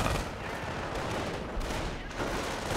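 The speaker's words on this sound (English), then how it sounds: "sniper taking shots." Rifle fire rattles through a Company of Heroes battle, a dense continuous wash of overlapping shots and explosions with a slight drop near the end, loud and busy, with no distinct single shot standing out.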